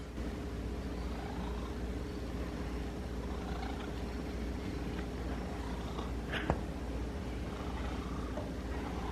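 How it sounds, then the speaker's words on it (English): Soft, steady low purring from a cat, continuous and close, with a brief faint click near the end. "I'm gonna listen to that purr."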